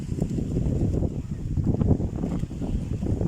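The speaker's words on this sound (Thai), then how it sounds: "ลมแรงกับหนาวค่ะทุกท่าน" Strong, cold wind at a sandy beach, a steady low rumbling roar of wind buffeting the microphone throughout, with no clear voices.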